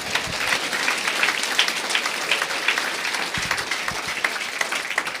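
A church congregation applauds during a sermon, with dense, steady clapping from many hands throughout, loud and close, with a few heavier low thumps mixed in.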